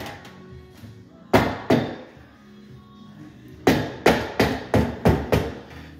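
A slip jamb door frame being kicked into place: two heavy thumps, a pause, then a run of six steady, forceful knocks, close and loud with no talking.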